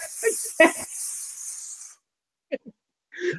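A voice imitates a snake's hiss with a long, breathy sustained hiss, broken by brief vocal sounds and followed by short bursts of talk after a pause.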